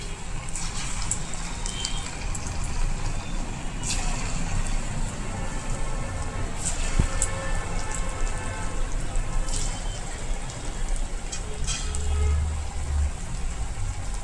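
Special wheels deep-frying in oil in a kadai over a medium gas flame, giving a steady, dense crackling sizzle that holds an even level throughout, close up and with no talk.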